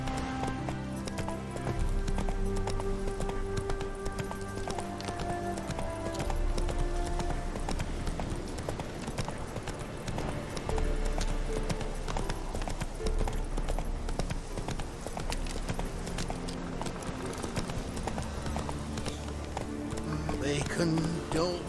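Roach the horse gallops in Witcher 3, a steady rhythmic clip-clop of hooves running continuously under a dense bed of game music and ambience, with someone talking over it.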